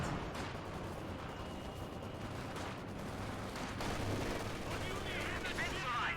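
Gunfire in a Company of Heroes 2 battle: dense, continuous rattling shots and distant booms from a game soundtrack, with a steady roar of battle noise and a brief whistling tone near the end.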